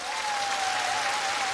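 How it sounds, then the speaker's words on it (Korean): An outdoor crowd at a televised Korean singing contest in a riverside park breaks into applause, a brief, even wash of clapping with a faint tone running through it. "박수!"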